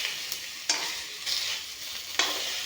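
Fish being stirred while it fries in a pan, prepared with ash gourd. The spatula gives soft scrapes under a steady bright sizzle, and a few sharper stirring strokes stand out.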